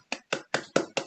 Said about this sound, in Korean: 큰 박수 다시 한번